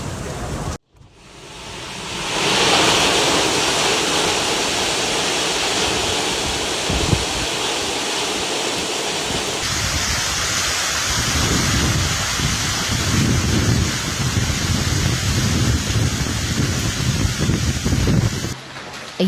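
Heavy rain pours as a dense, steady roar during a violent summer thunderstorm with flooding, loud and continuous with gusty wind noise on the microphone and no clear thunderclap.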